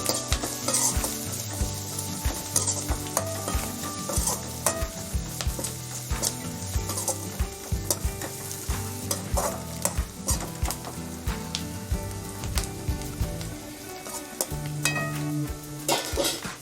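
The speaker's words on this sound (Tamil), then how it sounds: "எல்லாத்தையும் கலந்து விட்டுக்கலாம்." Potato masala sizzles in a hot pan with cumin powder while a utensil stirs and scrapes against the metal in quick, irregular clatters throughout.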